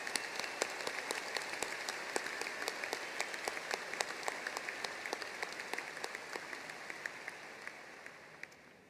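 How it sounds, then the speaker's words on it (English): Sustained crowd applause at a spring undergraduate university commencement ceremony, dense steady clapping with a few sharper claps standing out, holding level and then gradually thinning toward the end. "Let's give him a round of applause."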